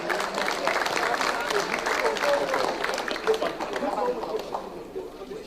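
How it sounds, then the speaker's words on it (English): A crowd applauds Rustam Babayev at an arm-wrestling match against Todd Hutchings, with dense sustained clapping mixed with crowd chatter that fades slightly toward the end. "Ladies and gentlemen, round of applause for Rustam Babayev."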